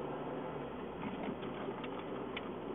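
A car engine runs steadily while driving, a low, even hum that stays close and unbroken through the short stretch with no talk over it.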